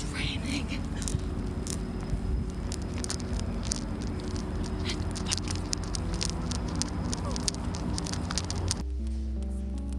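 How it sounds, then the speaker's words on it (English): Rain patters steadily throughout during a commute, a dense wash of drops with sharp ticks, likely on a vehicle window or roof, with a low rumbling hum beneath; the sound cuts to a quieter, lower hum near the end. "It's raining."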